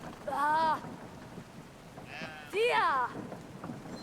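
A sheep in the video game Brothers: A Tale of Two Sons gives two clear bleats, one early and one later, over a quiet background with faint patter.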